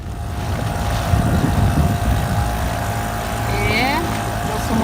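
A motorboat engine drones steadily at close range while it tows a sailboat whose own engine would not start, a continuous low hum running throughout with some wind and water noise.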